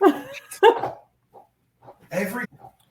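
A female dog whimpers and yips in short, close bursts separated by brief quiet gaps, sounding whiny and impatient.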